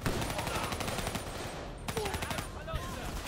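Rapid automatic gunfire in Call of Duty Black Ops 3 co-op play, quick repeated cracks in short bursts with a brief pause midway, fairly quiet overall.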